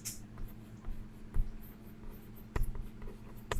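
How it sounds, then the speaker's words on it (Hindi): A pen or marker scratches out geometry notes in short strokes and taps, close and fairly soft, with small pauses between bursts and no talk. "आइए इसको लिखते हैं।"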